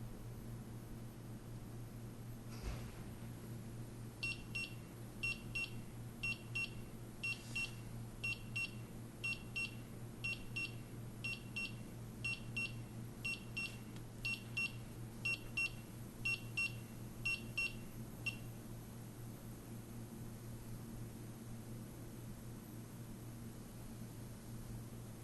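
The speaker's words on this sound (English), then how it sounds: "The following video shows the user what a low alarm indication would look like with the GasBadge Pro." A GasBadge Pro gas detector in low alarm beeps in quick, evenly spaced high-pitched pairs for about fourteen seconds over a steady low hum, with no talking.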